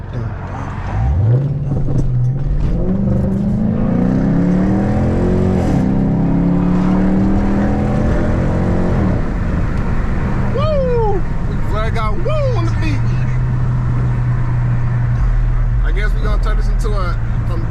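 A car drives through a city, the engine revving and shifting up through the gears at close range, with a voice talking over it and a few sharp chirps near the end.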